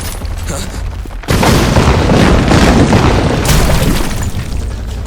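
Grenade explosions as an anime dub sound effect, a sudden loud blast erupting into sustained rumbling booms and debris that fill the rest of the moment.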